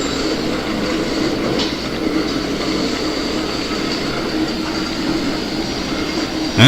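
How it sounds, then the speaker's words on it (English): Freight train heading north toward Selkirk through West Mill, a steady rumbling roll with faint wheel squeal and clatter, continuous and fairly close, with a sudden louder burst at the very end. "we can see yet another freight heading north towards Selkirk,"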